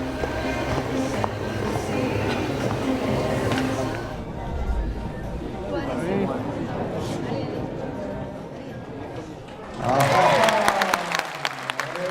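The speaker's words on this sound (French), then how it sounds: "Vous avez raison d'applaudir, messieurs, dames, c'est un parcours sans faute" Spectators applaud a clear round at a horse show in Normandy, a dense crowd clapping that carries on for several seconds, then swells loudly again near the end.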